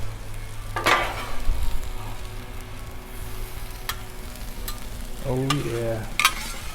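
Vegetables frying on a Blackstone griddle, a steady close sizzle with scraping and stirring strokes, while a voice speaks briefly near the end.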